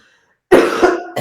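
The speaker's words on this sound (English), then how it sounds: "I thought I was done coughing." A single loud, close cough bursts out after a stretch of near silence, followed by a rough rattle and a second short catch at the end.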